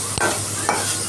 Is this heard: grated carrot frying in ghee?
yes